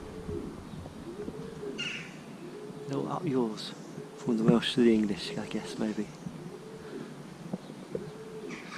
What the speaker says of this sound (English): It just seems to be a place for pigeons and crows.